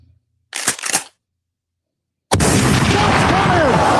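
A single sharp gunshot-style boom bursts in loud and sustained with a rumbling tail, after a short voice exclamation and a pause of silence.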